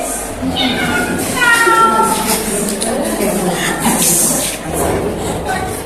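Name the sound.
cat sound imitated during storytelling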